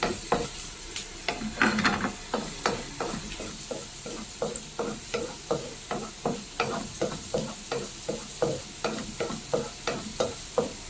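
Chicken added to a hot pan of sautéing aromatics for a Filipino gisa dish, with a steady sizzle and a regular rhythm of spatula scrapes and stirring strokes throughout, fairly close and with no talk.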